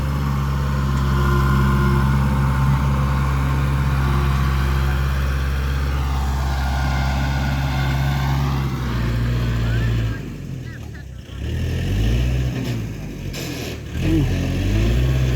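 A tractor engine labors in thick, sticky mud with a heavy low drone that swells and dips as the load changes, loud and close throughout, with a brief drop near the end.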